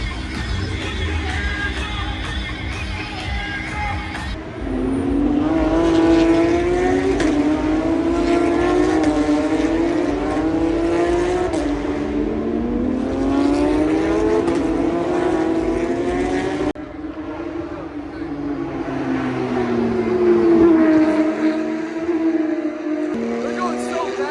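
Formula 1 race cars pass at the Miami track. Their high-pitched engines whine and shift pitch as they sweep by, a loud, continuous drone layered over a crowd, with people talking close by.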